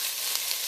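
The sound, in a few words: onions frying in a pan while being stirred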